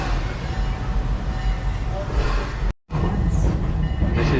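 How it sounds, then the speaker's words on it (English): A roller coaster train departing the station at Busch Gardens Tampa rumbles and clatters steadily nearby, with voices talking over the mechanical noise and a brief dropout midway. "it means our train is ready to depart the station"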